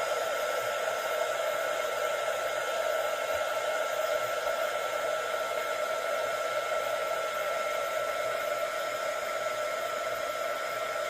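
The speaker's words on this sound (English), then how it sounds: "So I'm just going to heat it from the bottom, and then I'm going to go ahead and emboss it from the top." A heat tool blowing hot air to melt embossing powder on a stencil, a steady whirring fan drone, close and constant from start to finish.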